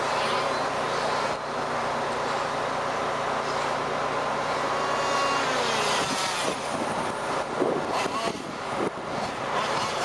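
Fifth-scale RC race cars run on a DeSoto Grand Prix track, a dense buzzing blend of small engines droning together, with a public-address voice faintly over the steady noise.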